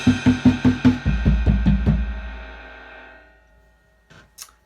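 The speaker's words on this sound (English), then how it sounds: "we've got 6 on the high tom and then 5 on the low tom" Drum fill on a drum kit, six quick strikes on the high tom followed by five on the low tom in a steady even rhythm, close and punchy, ringing out before a faint click at the end.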